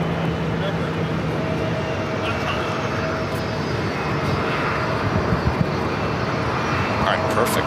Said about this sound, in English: Delta Airlines flight 515 heading to Atlanta, A350-900. Next takeoff.